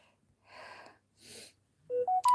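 Two short, breathy bursts like a person sneezing indoors, fairly soft, followed by three quick rising electronic beeps from a device.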